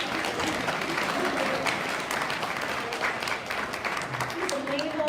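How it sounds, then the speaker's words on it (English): An audience at a Baltimore LGBT elders event claps in a dense, sustained burst of applause, with a voice or two speaking faintly over it toward the end. "you can clap just on the name"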